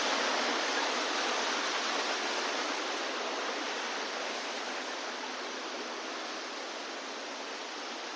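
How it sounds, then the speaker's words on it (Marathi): A waterfall near the Lingdari Mahadev temple roars as a continuous, dense, even rush of falling water, loud and unbroken from start to finish with no other sounds over it. "एकदम इतका सुंदर असा धबधबा आहे मित्रांनो एवढं जबरदस्त पाणी पडत की खूप म्हणजे खूप जबरदस्त धबधबा आहे"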